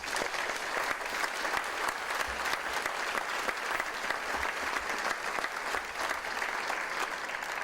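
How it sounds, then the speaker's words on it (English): An audience at a police department badge ceremony applauds the commanders, sustained, even clapping from a large crowd in an indoor hall that continues steadily throughout. "Please give them all a round of applause."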